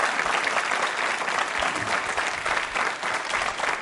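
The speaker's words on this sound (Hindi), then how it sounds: "तालियां जोरों से बजाई इन सभी की जानकारियों के लिए" A quiz show audience at a college event applauds loudly, a continuous, even roar of clapping from many people with no speech over it.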